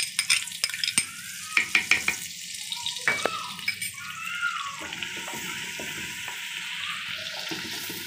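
Ginger garlic paste frying with whole spices for a mutton curry sizzles steadily up close, broken by a run of sharp spoon taps and clacks against the pot, with no voice.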